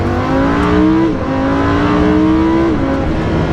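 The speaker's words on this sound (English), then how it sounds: "The shifts are just the second you click the paddle, you're upshifting or downshifting." A Lamborghini Huracan in Corsa mode revving loudly and accelerating hard, its engine note climbing then dropping abruptly at each paddle upshift, close and continuous.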